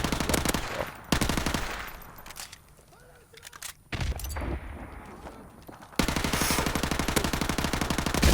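Rapid automatic gunfire in Call of Duty Modern Warfare Remastered, close and loud, comes in long sustained bursts with a short quieter lull in between.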